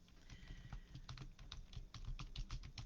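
Keys clack on a computer keyboard in quick, irregular taps, close but quiet, with no talking.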